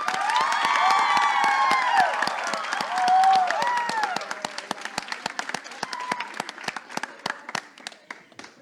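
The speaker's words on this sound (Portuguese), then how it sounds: "Muitas palmas para a Débora," Audience applause and cheering as Débora Garcia is welcomed on stage at the Casa Poeticast poetry show: loud, dense clapping with whoops and shouts, thinning toward the end into scattered, sharper individual claps.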